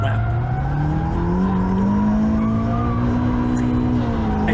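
Car drifting on Accelera 351 Sport GD tires during a hot lap, loud continuous tire squeal over a steady, rising engine drone, close and sustained throughout.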